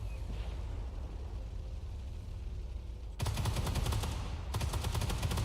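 Sustained rapid tank gunfire in the Armored Warfare video game starts abruptly partway through: dense, loud, evenly spaced shots that pause briefly and then resume over a low steady engine rumble.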